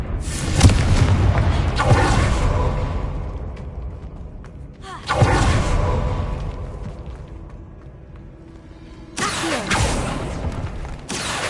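Explosions from the Confringo fire spell in the game Hogwarts Legacy: three heavy, booming blasts spaced several seconds apart, each with a rumbling tail of crackling debris and mechanical creaks.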